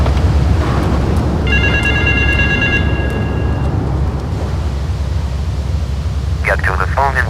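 In GTA 3, a payphone in West Belleville Park rings in brief electronic trills. The rings sit over a steady hiss of background noise, with in-game voices talking faintly underneath.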